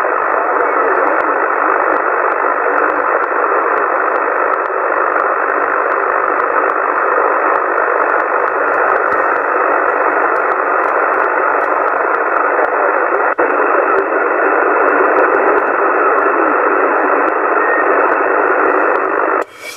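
Steady, loud hiss of static on a CB radio channel 27 link, an unbroken band of noise with no clear voice coming through, running nearly twenty seconds.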